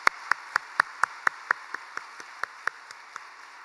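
A church congregation at a spring special dawn prayer service applauds in slow, evenly spaced claps, about a dozen sharp beats at a steady pace, fairly faint with no talking.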